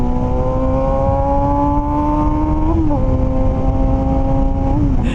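A Suzuki GSX250F Across 250cc four-cylinder motorcycle engine screams under hard acceleration, a loud, close, buzzing high-pitched drone that climbs steadily, dipping briefly at two gear changes before rising again.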